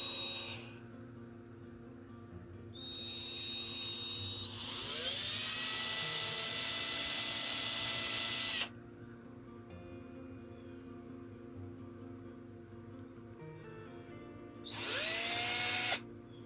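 A small power drill boring a 1 mm hole in a wooden model ship runs in short bursts, whining shrilly as it spins up, cutting off abruptly, then starting again after a quiet pause.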